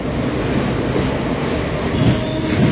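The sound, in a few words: Vikram Simhapuri Amaravathi Express train departing Nellore station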